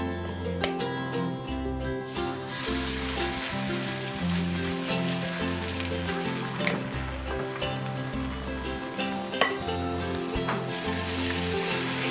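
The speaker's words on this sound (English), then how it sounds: "we're going to just drop deposit this mix into the fry pan" Potato pancake mix fries in hot oil in a fry pan, giving a loud, steady sizzle and crackle throughout, with a low rhythmic thumping underneath.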